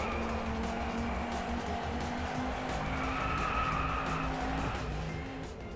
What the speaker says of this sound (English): the sound of the tires screeching